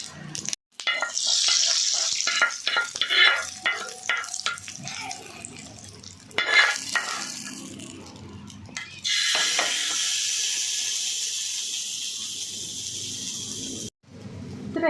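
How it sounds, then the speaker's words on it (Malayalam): Mustard seeds tempering in hot oil with curry leaves and chillies, close crackling and spluttering bursts that swell into a long steady sizzle, with brief gaps of near silence. "കറിവേപ്പിലയെല്ലാം മുളകും എല്ലാം കൂടി ഇട്ടിട്ട് കടുക് വറുത്ത് ഇട്ടാൽ തീർന്നു"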